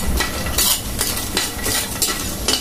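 Whole spices being lightly dry-roasted for garam masala powder are stirred in a pan, giving close scraping strokes with light clinks in a repeating rhythm over a faint sizzle.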